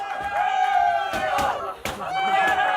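A crowd of friends erupts in loud cheering and whooping after a win at the final table of the 2015 PCA poker main event, with excited shouts and a few sharp claps or slaps rising over the sustained roar.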